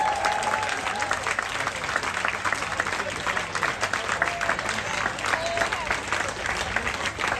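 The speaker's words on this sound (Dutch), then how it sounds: "Dus geef ze nog een warm applaus." Warm, sustained applause from an audience at a Balochi music show in Amsterdam, dense and steady throughout with a faint murmur of voices underneath.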